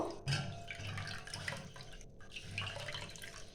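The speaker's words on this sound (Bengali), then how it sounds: "ছানাটা ঠান্ডা হয়ে গেছে আমি একটু জলটা চিপে নেব" Water trickles and drips steadily as fresh chhana cheese is squeezed out by hand while making ras malai, a close, continuous wet splashing with no talk.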